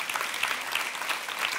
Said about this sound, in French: tu vas applaudir